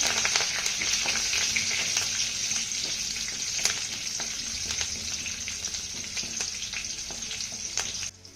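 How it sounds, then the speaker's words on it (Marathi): Mustard seeds, cumin, green chillies and curry leaves sizzle and crackle in hot oil as a tempering, a steady close frying hiss with scattered pops and occasional stirring throughout, stopping abruptly at the end. "त्यानंतर ही फोडणी आपल्याला छान अशी परतून घ्यायची आहे"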